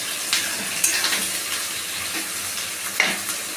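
Onions fry in oil with a constant soft sizzle, broken by a few scattered scrapes and clinks of a spoon against the pan.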